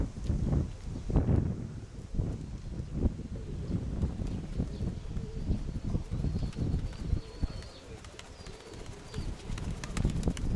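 Kept pigeons coo softly and repeatedly outdoors, faint and near, over gusts of wind buffeting the microphone, with no talking.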